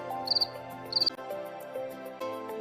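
Crickets chirp outdoors in two short, bright trilling bursts about half a second apart, fairly close, over a faint musical background.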